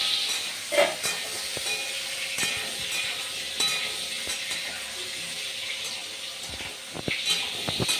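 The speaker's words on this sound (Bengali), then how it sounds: "এদিকে আলু প্রায় ভাজা হয়ে এসছে।" Potatoes fry and sizzle in oil in a kitchen wok, a steady close hiss broken by occasional scraping and stirring clatters.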